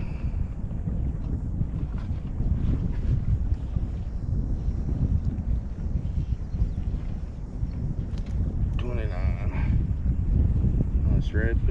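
Strong, steady wind buffets the microphone on open water during a kayak fishing trip, a constant low roar with gusts, and water sloshing near the end.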